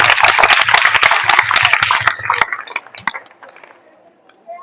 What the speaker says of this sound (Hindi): जोरदार ताली इसके लिए।